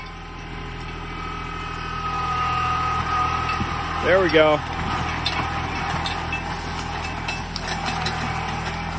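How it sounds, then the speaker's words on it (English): A four-wheel drive tractor idles with a steady low rumble at a logging site in rocky Pennsylvania woods, while someone speaks briefly nearby. "4-wheel drive tractor."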